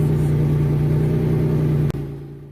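A car engine fitted with an AP aftermarket muffler runs steadily with a deep, droning exhaust tone close by, then cuts off abruptly near the end and leaves a quieter hum.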